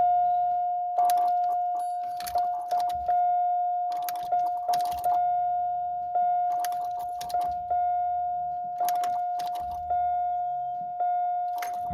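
Car keys jangle in the ignition of a Buick in scattered clusters, over a steady electronic tone that runs throughout.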